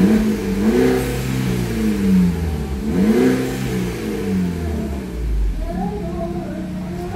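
A Peugeot RCZ fitted with a Valvetronic exhaust revs hard in a few rising and falling throttle blips, a loud, close engine roar with deep exhaust rumble, while people talk over it.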